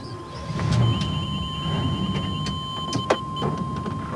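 Powered body jacks raise an Airstream trailer, a steady electric motor hum with a constant tone, broken by scattered clicks and knocks of the body shifting.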